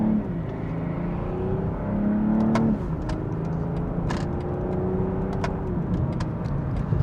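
BMW M340i engine, 285 kW and 500 Nm, accelerating from inside the car: a steady engine drone rising in pitch through gear changes, with brief sharp clicks over it.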